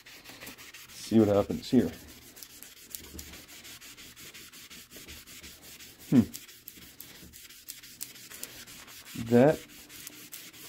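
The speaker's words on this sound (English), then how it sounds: "So I use the middle of the magic eraser, which is kind of dry." A dry magic eraser rubs across overspray on a Black Hole pinball playfield in a few short scrubbing bursts, with quiet gaps between them and brief talk near the start.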